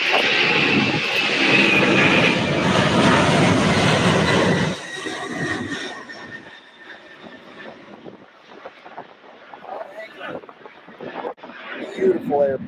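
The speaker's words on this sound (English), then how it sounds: "Beautiful airplane." Jet airliner roaring loudly during takeoff at Louisville airport, a heavy departure bound for Portland, Oregon; the broad engine rumble dominates the first five seconds, then drops off sharply and fades into distant background noise with occasional voices.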